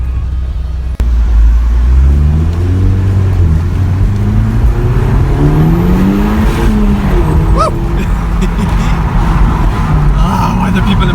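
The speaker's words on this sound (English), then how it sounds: "We're driving there in the new car, Audi TTS, in case you wanted to know." An Audi TTS sports car drives and accelerates close by, its engine note rising in repeated upshifting sweeps over road rumble, loud and continuous under occasional talk.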